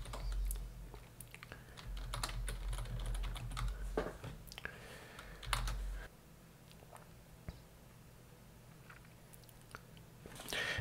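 Someone types a command on a computer keyboard, with a quick run of close, soft key clicks and taps, then a pause and a few more scattered keystrokes, with no talking.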